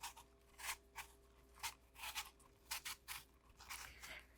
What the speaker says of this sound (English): So we're gonna start by peeling an apple. I like to use Granny Smith,